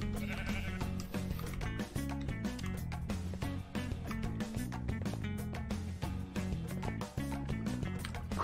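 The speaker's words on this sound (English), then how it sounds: "We got plenty of sheep." Minecraft sheep bleat repeatedly over steady game background music, the calls short and fairly prominent throughout.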